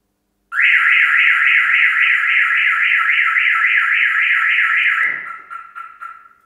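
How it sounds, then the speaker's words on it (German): A Mercedes factory-fitted car alarm, set off by a signal jammer, blares a loud, rapidly warbling siren for about four and a half seconds, then cuts off, leaving a brief fading tone and faint clatter. "dass die Alarmanlage Vollalarm schlägt"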